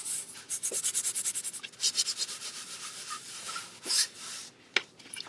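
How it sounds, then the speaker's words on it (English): Embossing powder is rubbed off a black papercraft surface in rapid, scratchy strokes, a dry brushing rhythm that is close, fairly quiet and pauses now and then, with no talking. "And then you can rub off all the powder."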